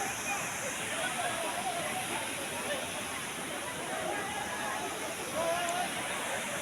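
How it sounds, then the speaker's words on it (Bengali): Steady broadband rush of water falling from a height at Jaflong, Sylhet, a continuous roar with no breaks, fairly loud and close. "কত উপর থেকে ঝর্ণা দিয়ে পানি পড়তেছে"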